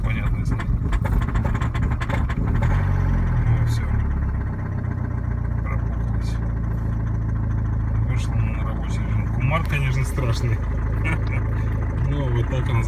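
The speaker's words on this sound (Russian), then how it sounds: "Ну, вот так он заводится. Что поделаешь, дизель." Diesel car engine turning over in hard frost, cranking and catching into a rough, loud idle that runs close and steady throughout, with brief speech-like sounds mixed in.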